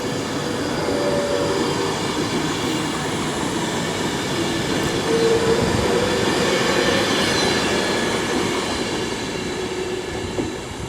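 A train passes through Stafford station on the West Coast Main Line, a loud continuous rolling roar with faint wheel squeal and rail clatter lasting the whole stretch.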